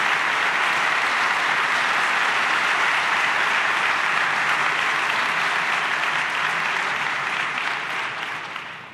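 A large audience applauds steadily, dense continuous clapping that holds at full strength for most of the stretch and begins tapering near the end, greeting the Second Lady of the United States at a speech in Argentina.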